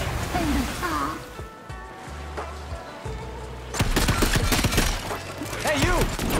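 Gunfire in Shadow Warrior 3, a dense crackling fusillade of shots that swells in the second half, mixed with in-game speech and rumbling background effects.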